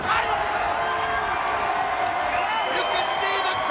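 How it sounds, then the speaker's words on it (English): Wrestling arena crowd roaring and cheering after Team 3D win the NWA Tag Team titles, a loud, sustained wall of noise with whoops rising near the end, a commentator talking over it. "You can see the crowd going crazy."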